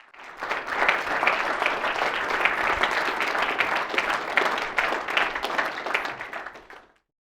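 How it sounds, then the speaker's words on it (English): Sustained applause from an audience at a business incubator demo day, many hands clapping together in a dense, steady wash that holds for several seconds before fading out. "a massive round of applause to all of them"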